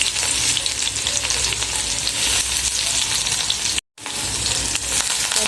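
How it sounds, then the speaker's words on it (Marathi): Garlic sizzles steadily and loudly in hot oil, a dense continuous crackle broken only by a split-second gap, with no voices. "त्यामुळे टाकणार आहे मी आता लसूण।"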